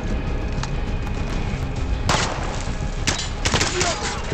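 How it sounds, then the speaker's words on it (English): Machine gun fire in Call of Duty Modern Warfare rattles in repeated bursts over a dense, noisy battle background, with sharper clusters of shots toward the middle and end. "That was the goddamn machine gun."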